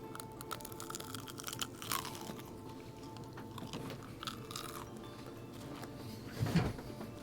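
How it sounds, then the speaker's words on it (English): Someone bites into and chews a crunchy grilled cheese sandwich close to the microphone, with irregular crisp crunches and a louder bite near the end over steady background noise. "let's get some like eating crunchy grilled cheese ASMR here for you"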